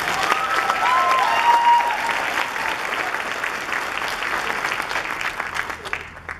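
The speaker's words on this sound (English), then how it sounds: "How about another round of applause for the soloists?" A concert audience applauds the soloists of a jazz ensemble, with sustained, dense clapping filling the hall at full volume before slowly thinning toward the end.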